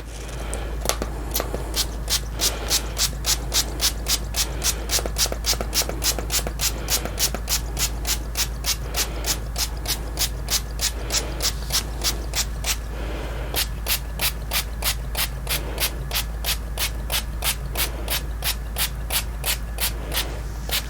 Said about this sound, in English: I'm just going to kind of spray just a small area here